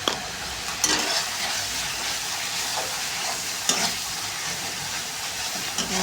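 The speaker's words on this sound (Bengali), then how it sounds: "মশলা দিয়ে ভালো করে ভাজতে হবে কিছুক্ষণ ধরে" Spices with turmeric, red chilli powder and salt fry in oil in a pan, a steady close sizzle with a few sharp stirring scrapes at intervals and no voices.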